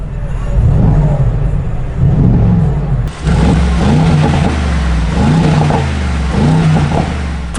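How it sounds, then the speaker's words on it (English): A 2020 Mercedes-Benz G63 AMG engine starts by push button and revs loudly with a deep, rumbling roar, surging several times close by before settling into a heavy idle. "Listen to that roar."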